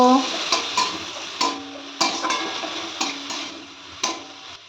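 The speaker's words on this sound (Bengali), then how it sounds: "এবার এর মধ্যে আমি বাঁধাকপি কুচিগুলো দিয়ে দেব একটু নেড়ে দেব" Chopped cabbage is stirred into a pan of vegetable soup over a low to medium gas flame, with repeated scraping strokes and utensil taps roughly every half second over a faint sizzle, close and loud.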